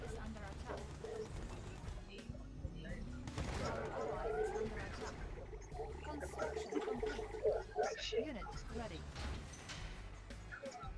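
Rapid gunfire and explosions from a Red Alert 2 online match, a dense continuous barrage of shots and impacts with game effects, heard under excited Thai speech.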